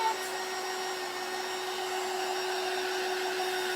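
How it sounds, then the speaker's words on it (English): A handheld dryer blows steadily to dry paint on a mixed media Christmas tree craft, a loud, close, continuous whirring hum with a fixed whine and no talking over it. "let me dry that real quick"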